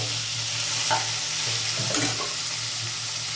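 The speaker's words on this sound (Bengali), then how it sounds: "তেলটা গরম হয়ে গেছে, এবার এই তেলেই আমি চিংড়িগুলোকে ছেড়ে দিলাম" Prawns sizzle steadily as they go into hot mustard oil, a continuous bright frying hiss punctuated by a few soft stirring clunks, close and fairly loud, with no voices.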